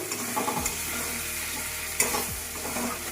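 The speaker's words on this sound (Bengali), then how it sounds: "এবার এটাকে আমি আবারও একটুখানি ভাজা করে নেব" Bay leaves and grated coconut frying briefly in oil, a soft continuous sizzle with a couple of quick spatula scrapes against the pan.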